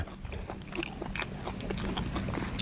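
Close-up, crunchy chewing and biting of steamed herbal beef, with rapid irregular crackles and squelches filling the whole stretch.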